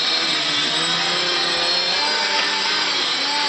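The tail rotor of an MH300 RC helicopter runs continuously at steady speed, a loud, close, high whirring buzz without letup.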